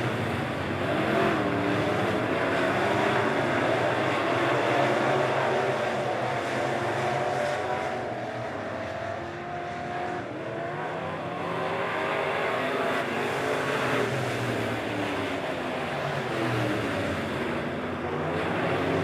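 Super stock race cars from a POWRi heat race roar around the dirt oval at Lebanon Midway Speedway, a steady, loud blend of engines revving and droning, rising and falling as the pack circles, with no talk over it.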